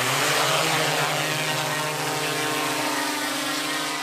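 A drone used for cattle mustering takes off, its rotors producing a loud, steady propeller whine and hum that holds close and constant with no voices.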